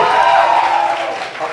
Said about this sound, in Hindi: हसन जहांगीर के लिए तालियां